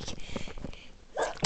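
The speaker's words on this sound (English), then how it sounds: "sorry, I'm sneezing" A single sharp human sneeze, close and loud, preceded by a brief intake of breath and followed by a short burst, with no talk over it.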